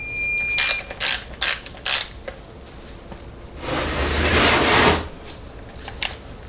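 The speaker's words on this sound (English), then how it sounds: "Once we have our torque wrench set to the correct setting," A torque wrench ratchets while tightening 6L80 transmission pump cover bolts to 97 inch-pounds: several short, close clicking strokes, then one longer ratcheting sweep, with a final tick.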